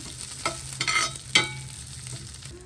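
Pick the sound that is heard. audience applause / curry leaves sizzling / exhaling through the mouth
curry leaves sizzling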